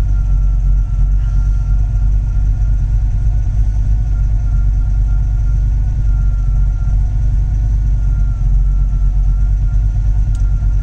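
Steady low engine drone with an engine cooling fan on Holley EFI variable speed control running at full speed, whirring and rushing over it, continuous and fairly loud throughout, no voices.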